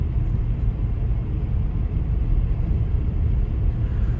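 A car drives a snowy road in Iceland during the first December snowstorm, its low engine and road rumble a steady, muffled drone from inside the cabin, with no one talking.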